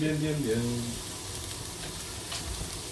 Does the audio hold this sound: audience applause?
no